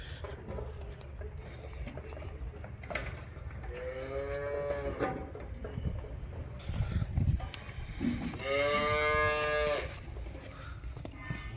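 A newly calved buffalo lows twice, long droning moos a few seconds apart, over a low rumbling background.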